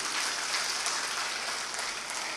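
An audience at a Hindi poetry gathering claps steadily in honour of their parents, a dense continuous wash of applause filling the room without any talking.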